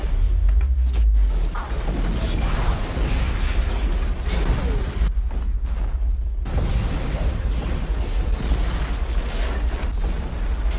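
Explosions from a Batman film scene, a dense run of loud booms and bursts with heavy low rumble that drops out briefly midway, then resumes as continuous blasts and debris.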